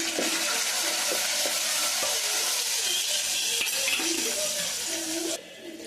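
Whole spices frying in oil in a pan for a tamarind and tomato curry, a steady broadband hiss of sizzling that runs evenly throughout with faint tonal clinks and scrapes beneath, then drops slightly in level at the very end.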